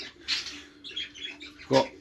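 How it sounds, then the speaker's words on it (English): Budgies chirp in a breeding room flight, with several short bright tweets and warbles in bursts at close range, plus a brief louder call near the end. "Showing you a couple of the birds in the flight here to start with."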